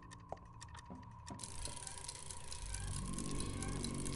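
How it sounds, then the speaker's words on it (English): A clock ticks in the video game Fran Bow, sharp regular ticks in the first second and a half, then masked by a rising, steady ambient drone and game noise. "Oh, this clock sounds odd."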